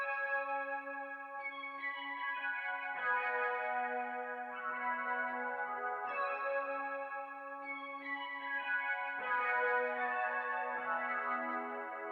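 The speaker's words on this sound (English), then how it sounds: "I took this Rhodes one shot and I copied the same pattern over." A Rhodes electric piano one-shot repeats a chord pattern in a beat, pitched up an octave with the highs and lows filtered, soft sustained chords changing every few seconds over a low steady tone.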